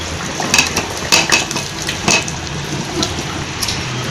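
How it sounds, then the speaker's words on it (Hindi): Potatoes go into a pot of tomato masala for biryani, with a steady soft sizzle broken by several sharp clanks and scrapes of a spoon against the metal pot. "अब ये टमाटर में रखे हैं, ये आलू डालूँगी मैं सारे"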